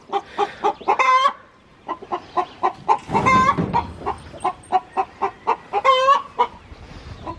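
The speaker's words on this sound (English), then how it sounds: "We got 3 hens. They're all the Australorps." Three Australorp hens cluck close by in a steady run of short, rhythmic clucks, with a couple of louder drawn-out squawks standing out above the pattern.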